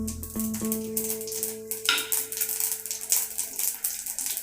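Mustard seeds and urad dal crackle and sizzle in hot oil in a pan for a homemade village-style pirandai chutney tempering, with a steady bright frying hiss, a few spoon clinks early on, and no talking.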